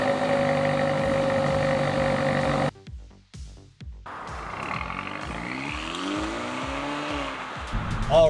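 A 2019 Hyundai Elantra GT N-Line (i30) hot hatch hums steadily, then after a brief break and a few clicks its engine fires and revs in rising, sweeping pulls while driving.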